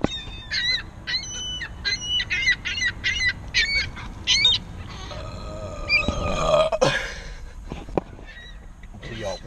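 Seagulls outdoors on Kent Island give a rapid run of loud, repeated crying calls, followed by more scattered squawks and honking cries mixed with rustling and a voice.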